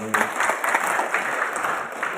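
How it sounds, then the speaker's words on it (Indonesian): An audience of teachers at a training session breaks into applause, a brief, lively burst of many hands clapping at close range that holds steady before tapering. "tepuk tangan buat Bapak Ibu"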